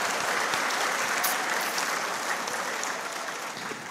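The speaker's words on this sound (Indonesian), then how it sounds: "boleh tepuk tangan buat LDI ini" An audience at an Indonesian LDII organization forum applauds continuously for about four seconds, a dense and even clapping that fades slightly toward the end.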